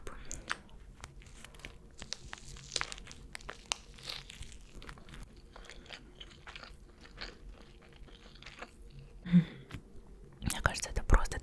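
Someone eats a McDonald's double Big Tasty burger up close, with soft crunchy bites, wrapper crinkles and chewing under quiet whispering, ending in a louder rustle.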